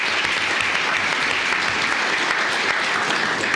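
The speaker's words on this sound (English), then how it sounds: "let's give him a round of applause for his 25 years" A commissioners court audience applauds an employee for 25 years of service, a steady, dense clapping that stays loud and even from start to finish with no voices over it.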